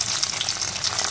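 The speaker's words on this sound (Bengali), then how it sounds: "এবার এগুলো আমি ভেজে নেব" Egg paneer pieces fry in a karahi of hot oil, giving a steady, close, dense sizzle that holds evenly throughout with no voices.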